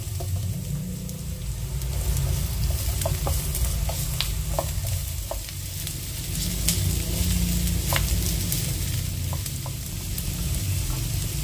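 Garlic sizzles in hot oil in a pot for sour rib soup, a steady dense frying hiss with light clinks of a utensil and a low background rumble, no talk.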